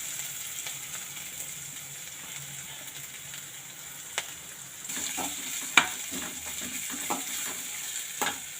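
Small onions sauté in oil with popped mustard seeds for a shrimp gravy. A steady soft sizzle plays with occasional sharp clicks and spoon scrapes of stirring, and no one speaks.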